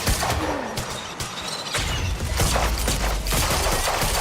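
Gunfire in Quantum Break breaks out as a loud, dense fusillade, with several sharp shots and crashing impacts over a continuous noisy action backdrop.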